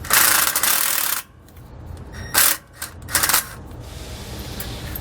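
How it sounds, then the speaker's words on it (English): Metal clinks and rattles as a washer and bolt are pulled from a Roadmaster rear anti-sway bar mount on a 2018 Winnebago, a few short bright clatters separated by quiet pauses, close up. "So I'm going to go ahead and pull the washer out. Pull the bolt out."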